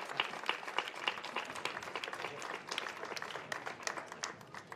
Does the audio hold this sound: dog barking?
no